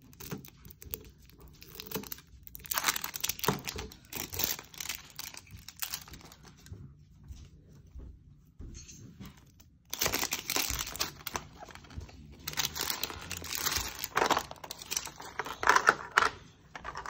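A MiniBrands toy package is unzipped and opened up close, giving bursts of crinkling, rustling plastic with quieter pauses between them, without speech.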